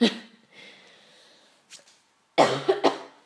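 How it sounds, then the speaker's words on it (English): A person coughs in close, loud bursts: one cough at the start, a soft throat sound midway, then a quick cluster of harsh coughs, with quiet breathing between. "I hope you're not wearing headphones, because that'd be really uncomfortable to hear me like cough every 20 seconds"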